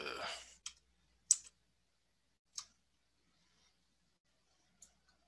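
Computer keyboard keys pressed during live game-development coding: a handful of sparse, sharp clicks spread over several seconds, close and fairly quiet, following a brief rush of noise at the start.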